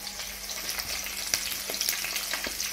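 Onion and cumin seeds frying in a hot pan give a steady, close sizzle with a dense crackling hiss throughout, punctuated by a few sharper pops.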